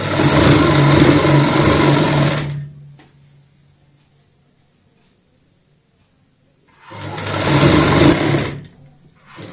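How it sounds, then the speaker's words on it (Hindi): Sewing machine stitching the round hem of a designer baby frock for a 7 to 8 year old, running in a loud steady whir for about two seconds, pausing in near silence, then whirring again. "पूरे राउंड घेरे में सेम इसी तरीके से हम यहाँ पे सिलाई को कंप्लीट करेंगे।"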